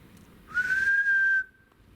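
A single clear, steady whistle near power lines, lasting about a second at a fairly loud level against a quiet background, then fading away.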